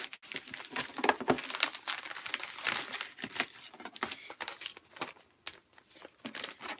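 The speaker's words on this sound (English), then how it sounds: "I just stick it into the customs envelope" Paper crinkling and rustling as it is folded and pushed into a customs envelope for shipping, a close, continuous series of dry crackles with sharper crunches throughout, no talking.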